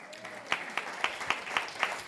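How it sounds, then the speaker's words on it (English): Audience at a Democratic club meeting clapping in a steady, moderately loud rhythm of sharp claps, a light patter of applause sounding alone over a soft room background. "We could applaud that."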